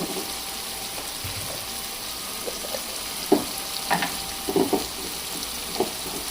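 Ginger garlic paste and cumin sizzle in a frying pan for a tomato egg curry, a steady hiss with a few sharper pops and spatters close by, no talking.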